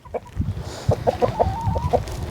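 Chickens clucking close by in a barnyard, a string of short repeated clucks with one drawn-out call, and no talking.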